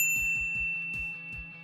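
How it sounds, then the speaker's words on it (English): A bright notification bell sound effect, a rapid series of about seven clear ringing dings in quick even rhythm, ringing out alone and fading slightly. "ring the bell to be notified about our latest videos"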